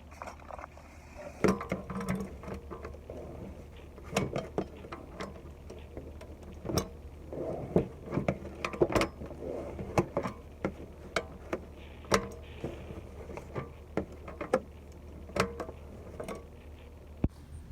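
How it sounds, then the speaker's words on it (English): Oil filter wrench driven through a 5/16 socket adapter loosening a car engine's oil filter during an oil change: irregular sharp metallic clicks and ticks, fairly close, over a low steady hum, with no talk. "So this adapter goes to this oil filter wrench, so we can remove the filter."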